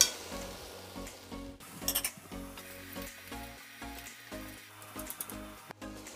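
Clams sizzle in a pan with ham for a chickpea and prawn stew, a steady soft frying hiss with occasional stirring clinks under background music.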